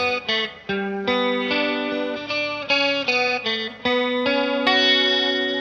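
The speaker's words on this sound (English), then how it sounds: "I've got a compressor up front from the HX Stomp, then goes into the MXR stereo chorus." Clean electric guitar run through an HX Stomp compressor and an MXR stereo chorus pedal, playing a steady sequence of strummed and picked chords with a shimmering, effects-rich tone and no voices.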